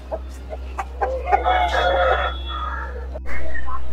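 A rooster crows at the Broadway Sunday pet market in Chennai, a single drawn-out cock-a-doodle-doo rising over scattered clucks and steady market background hum, then a louder noise at the end.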